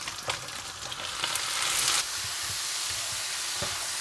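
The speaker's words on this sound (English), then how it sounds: "now it's super hot, so you're gonna add the bean sprout in there" Bean sprouts hit a very hot pan and stir-fry with a loud bright sizzle that swells after a second or so, mixed with spatula scrapes and knocks, close and continuous without speech.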